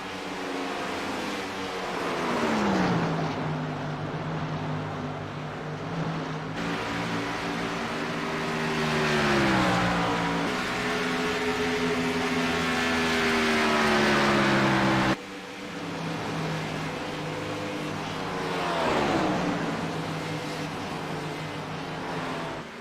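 Race cars circle an oval track in a succession of close engine drones, each rising and falling in pitch as it roars past, with barely a gap between them.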